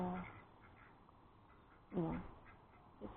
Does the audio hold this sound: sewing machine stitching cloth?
no